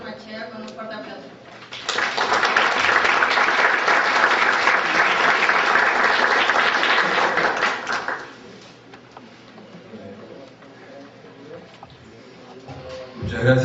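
An audience at a lecture on accounting and globalisation bursts into loud sustained applause for about six seconds, then it fades and quiet room sound follows before a voice begins.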